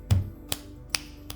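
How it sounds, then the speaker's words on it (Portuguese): Fingers snap four times in slow succession, crisp and close, each a sharp isolated click against a quiet background, the first slightly louder. "Quando você estala os seus dedos"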